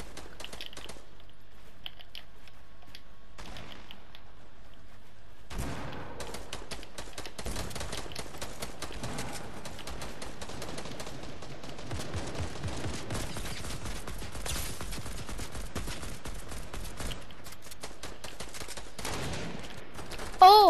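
Sniper and other gunfire in the Fortnite video game during a match, scattered cracks and bursts at moderate distance over a busy background of game sounds, with no talking.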